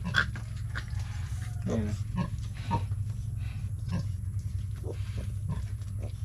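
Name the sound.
pigs and piglets grunting on farm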